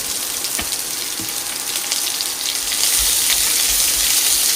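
Onion frying in a pan with chopped garlic: a steady, close, loud sizzling hiss that grows slightly louder partway through, with no talking.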